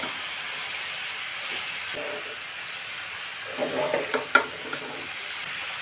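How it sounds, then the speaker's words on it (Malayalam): Grated papaya with browned onions stir-fried in a pan for Kerala papaya thoran, a steady close sizzle and hiss with scraping spatula stirs and light clinks growing busier toward the end. "ഈ സമയത്ത് ഗ്രേറ്റ് ചെയ്ത് വെച്ചിട്ടുള്ള പപ്പായ ചേർത്ത് കൊടുക്കാം. ഇത് നന്നായിട്ടൊന്നിങ്ങനെ വഴറ്റി കൊടുക്കണം."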